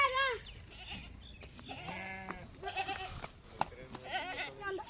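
A village goat bleats in several wavering calls with short gaps between them, loud and close, while people talk nearby.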